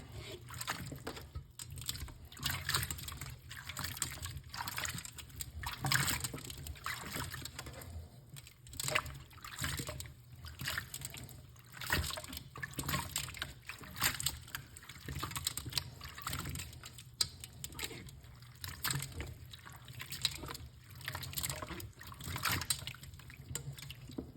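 Soft, continuous sloshing and splashing as fruits and vegetables are tossed around in a bowl of water, quiet and close with small irregular clatters throughout.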